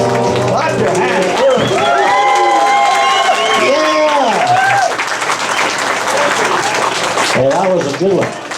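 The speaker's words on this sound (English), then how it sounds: "Clap your hands." Pub audience at a Saturday jam clapping hands along with a group singalong of Old McDonald, with sung, harmonized voices carrying over the hand claps before the crowd noise thins into scattered claps and cheers.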